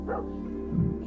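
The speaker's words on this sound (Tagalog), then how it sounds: "Tumigil nga kayo sa pagtahol." Dogs give a couple of short barks and yips at moderate distance, with quieter whining between them and no talking.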